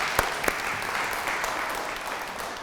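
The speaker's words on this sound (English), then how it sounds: "can we have a round of applause for our volunteers for today and Laura Banker, who pulled it all together" Audience applause for volunteers at a county birthday commemoration, a steady wash of clapping with a couple of sharp close claps, moderately loud throughout.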